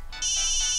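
A mobile phone starts ringing late at night with a bright electronic ringtone that swells within a fraction of a second and then holds steady and loud.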